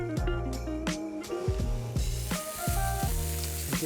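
Minced chorizo sizzles and fries loudly in a hot pan, with repeated clanking strokes of a utensil stirring the meat, close and alone without talk.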